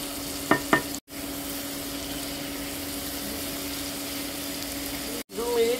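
Pineapple chunks with salt and turmeric sauté in a pan for chutney, giving a steady, soft, continuous sizzle and frying hiss with a couple of brief clinks of stirring early on and short breaks in the sound.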